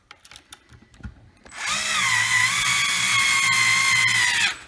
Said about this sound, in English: if you have a little hand power screwdriver like this, it's very, very useful.